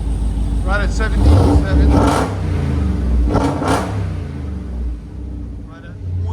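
A Jeep Trackhawk's 6.2L supercharged V8 idles through its aftermarket exhaust with a steady, deep low rumble up close, while people talk over it.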